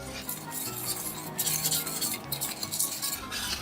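Caramel sugar mixture stirred in a pan for caramel corn, giving a steady scraping and clinking of utensil against the pan, close and continuous with no talking.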